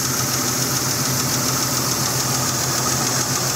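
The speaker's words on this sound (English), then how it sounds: "I had reported back that I was getting a ticking noise." A Jeep XJ engine runs steadily with a faint ticking woven into its continuous hum, heard up close at an even level and without any speech.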